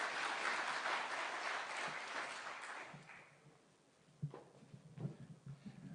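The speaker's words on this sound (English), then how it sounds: "A round of applause," A crowd at a launch event applauds, with steady clapping that fades over about three seconds, followed by a few scattered claps and knocks in a quieter room.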